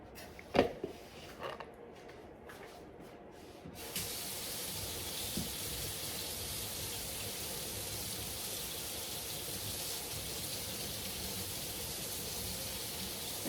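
Hot water runs from a kitchen sink tap while fry bread dough is being made, a steady broadband hiss that starts after a few soft knocks and continues evenly and close by until the end.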